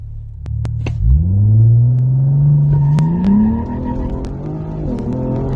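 A 500 HP Ford Explorer ST launches hard from a standstill, its engine note climbing in a deep, loud rising drone before the shift from first to second drops the pitch, then pulls again under a steady rumble.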